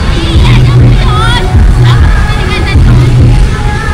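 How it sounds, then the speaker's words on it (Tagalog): A lively crowd in Rizal Park, Manila, during an evening outing with a fountain show, a steady babble of many voices with tonal music-like swells and occasional bangs, loud and close. "napakasaya ng crowd"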